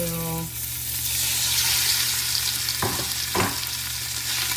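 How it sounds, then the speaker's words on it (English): Shrimp and sausage sauté in olive oil for a Spanish rice paella, a loud, close, continuous sizzle with two brief scraping stirs partway through. "now we're ready to saute our shrimp and sausage and some olive oil"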